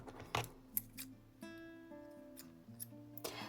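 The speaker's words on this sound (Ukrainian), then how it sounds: "Я відпускаю трохи нитки і обрізаю її." Scissors snipping plush yarn thread while crocheting a toy's muzzle, giving a few sharp, quiet clicks spread across a short, calm stretch with a faint tonal hum underneath.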